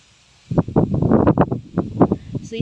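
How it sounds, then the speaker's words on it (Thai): Strong early-winter wind blows across a field of Surin Hom Mali 105 jasmine rice, buffeting the microphone in loud, irregular gusty rumbles that start abruptly and keep pulsing. "ลมก็จะค่อนข้างแรงนิดนึง"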